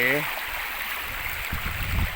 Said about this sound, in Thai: ก็เป็นทางน้ำตกทางลินนะครับ น้ำก็ไหล